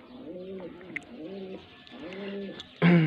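Pigeons, a Faisalabad breeding pair, coo in three soft, rolling phrases at an even pace, close by, and a sudden louder rustling burst follows at the end.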